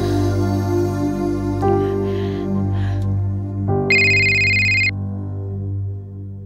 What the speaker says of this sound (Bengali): আকাশদালৈ ফোন কৰি চাওঁ